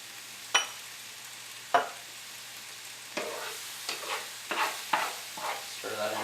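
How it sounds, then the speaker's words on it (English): A spoon stirs flour into vegetables sautéing in a pan, with a few sharp scraping knocks and then a run of softer stirring scrapes over a quiet, low sizzle, heard close and alone. "Stir that into your vegetables."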